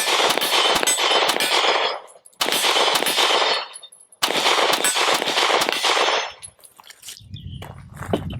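A Sig P365 XL pistol fired in three rapid strings of close, loud, sharp cracks, each burst followed by a brief pause, with a low rumble or handling noise after the last string.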